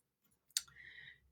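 A single crisp mouse click on a clickable web link, sharp and close, followed by a faint low hum with no voices.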